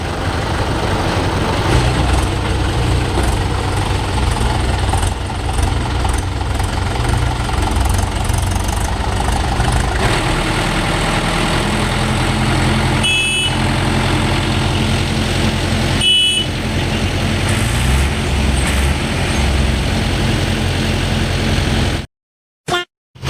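A tractor that sat unused for three months with a low battery runs after being push-started, a loud, steady low chugging idle with slight shifts in rhythm, cutting out abruptly near the end.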